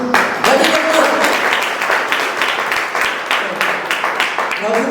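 A church congregation claps loudly in unison at a pastor's call, many hands striking in a steady beat that grows more rhythmic toward the end, with a voice calling out over the clapping.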